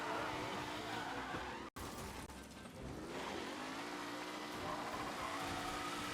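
Engine roar and tire skidding from a car in a race in the Mafia video game, loud and continuous, with a sharp momentary cutout early before the engine noise resumes steadily.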